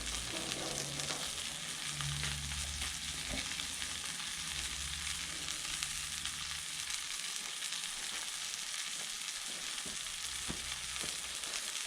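A butter-seasoned swordfish steak on a grill turned up high gives a continuous, even sizzle and hiss with a low rumble beneath, steady and alone with no talking.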